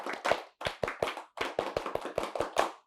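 Group performing the Indonesian scout clapping rhythm, sharp bursts of claps in a patterned sequence: a double clap, a pause, then quick runs of claps in steady beats, close and crisp with no talk.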